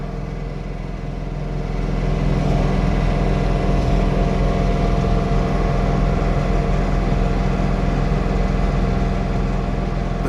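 A John Deere 3 Series tractor fitted with a snow blower runs with a steady, loud mechanical drone that swells after the first couple of seconds and holds constant, clearing a sidewalk in a snowstorm.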